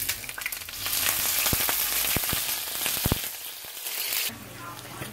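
Chopped seasoning sizzles and sputters in hot oil in a pan for ackee and saltfish, a steady frying hiss broken by sharp pops and a few stirring clicks at moderate volume.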